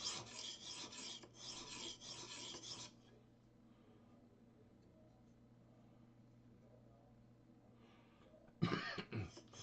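A hand file rasps off a burr in short strokes, with a burst of scraping that stops, a quiet stretch, then another brief scrape near the end, all close and fairly soft.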